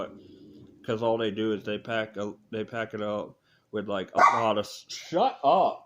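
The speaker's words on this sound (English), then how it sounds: "Sorry, that's my dog." A dog barks repeatedly in short bursts, close and loud, while a person talks over and between the barks.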